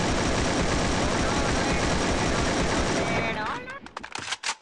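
Heavy, continuous shotgun and automatic gunfire in the Free Fire battle game, a dense loud barrage that thins into a few separate sharp shots at the end.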